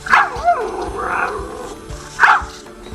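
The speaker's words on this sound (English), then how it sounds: "A built-in speaker allows communication with authentic puppy sounds." A robot puppy's speaker plays a few short puppy yips and whimpers, two louder bursts near the start and end with softer whining between, fairly close.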